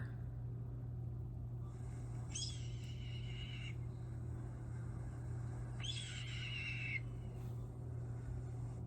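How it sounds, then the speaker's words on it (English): A red-tailed hawk call plays twice as a distinctive raspy, scratchy scream, each about a second long, faint and somewhat distant over a steady low hum. "Let me see if I can play a red-tailed hawk call."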